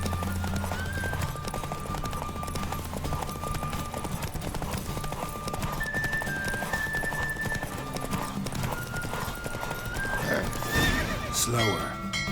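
Galloping horse in The Witcher 3: Wild Hunt, fast hoofbeats pounding steadily up close, with a whinny breaking out near the end and faint talk mixed underneath.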